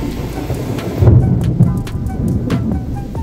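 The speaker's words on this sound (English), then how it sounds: "Y'all heard that thunder?" A deep roll of thunder rumbles beneath steady rain, swelling midway and then fading, with scattered drips and taps throughout.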